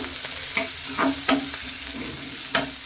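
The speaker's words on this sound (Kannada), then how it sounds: "ಇದನ್ನೀಗ ಎಣ್ಣೆ ನಾವು ಫ್ರೈ ಮಾಡ್ಕೋಬೇಕಾಗತ್ತೆ ಚೆನ್ನಾಗಿ ಕೆಂಪಾಗೋ ರೀತಿ ಇಲ್ಲಿ ನಾವು ಫ್ರೈ ಮಾಡಬೇಕು" Chopped onion fries in hot oil in a pan for a ridge gourd and toor dal stir-fry, with a steady close sizzle broken by a few sharp scraping stirs of the spatula.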